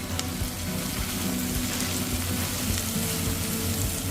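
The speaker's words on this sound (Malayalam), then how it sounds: "ഇനി അതിലേക്ക് നമുക്ക് ഈ പൊടികൾ ഇട്ടിട്ട് നന്നായിട്ട് വഴറ്റി കൊടുക്കാം." Onions sautéing in a pan with Kashmiri chilli powder, turmeric and masala powder for a steamed egg masala roast, a steady close sizzle and crackle with soft stirring scrapes throughout, no talking.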